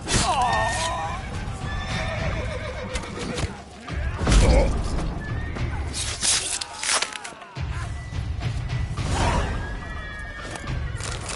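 Horses neigh and whinny loudly in the Witcher 3 Blood and Wine video game, several shrill calls mixed with hoof clatter, thuds and crashing over a dense game soundtrack with voices.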